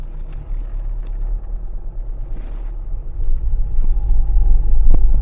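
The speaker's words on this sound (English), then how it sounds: "Some people say Ford diesels is a little bit rough running, a bit noisy, a bit making that noise" A Ford Transit Custom diesel van drives along, its engine a steady, loud low rumble heard from inside the cab that swells slightly toward the end, with faint road noise and no talking.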